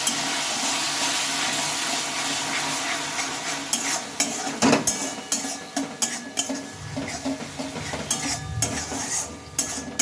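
A fried flour-based dish coated in sauce is stirred in a pan, with a continuous sizzle under repeated scraping and clinking of a utensil against the pan, close and fairly loud.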